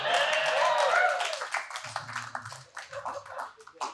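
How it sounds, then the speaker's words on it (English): Brief burst of comedy club audience applause at a stand-up show in a bar venue, a short rattle of clapping that fades within about a second and a half, followed by sparse scattered claps and faint murmur. "Give it up for my mom."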